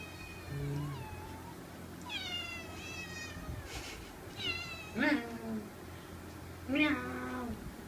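A cat meows several times at close range, drawn-out cries spaced a second or two apart, with some quieter vocal sounds in between.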